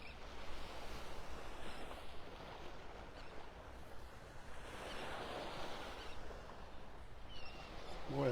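Ocean waves wash onto a Gulf beach at Delnor-Wiggins in North Naples, a steady, continuous surf roar with gentle swells in intensity and some wind buffeting the microphone throughout.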